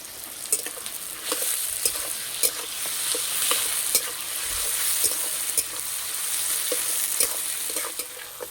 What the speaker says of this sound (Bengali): অল্প একটু নুন দেব, তাহলে পেঁয়াজ খুব তাড়াতাড়ি ভাজা হয়ে যাবে।